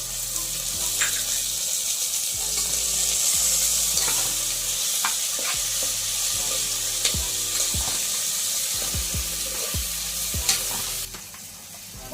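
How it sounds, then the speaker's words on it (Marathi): Chopped tomatoes sizzle in a hot tempering for dal khichdi while a spoon stirs them steadily, with repeated scraping knocks against the pan under a continuous close frying hiss. "आपण टोमॅटो सगळ्यात शेवटी टाकून घ्यायचं आणि छान असं परतवून घ्यायचं"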